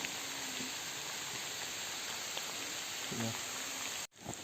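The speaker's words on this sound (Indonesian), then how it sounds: "Ini sekarang sudah hujan" Steady rain falls on a mountain trail on Gunung Buthak, a soft continuous hiss of drops that holds for several seconds at low level, with faint scattered sounds over it and a brief cut near the end.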